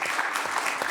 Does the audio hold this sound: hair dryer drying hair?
no